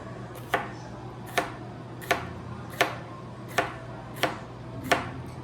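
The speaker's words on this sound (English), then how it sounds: "Let me cut some more." A knife slices vegetables on a cutting board in a kitchen, seven evenly spaced sharp taps about once every 0.7 seconds over a low steady hum, close and with no talking.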